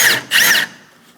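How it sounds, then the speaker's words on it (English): Drill bit boring out the centers of rivets on the rear door of a Chevrolet Express 2500 van, two close, loud whining bursts with a brief pause between, then fading to quiet. "We're going to go around and drill out the center of all 5 rivets."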